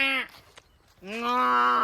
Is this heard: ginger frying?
no